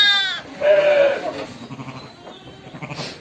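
Bleating from a ewe and her newborn twin lambs just after birth on a farm: a loud, wavering cry, then softer scattered calls close by.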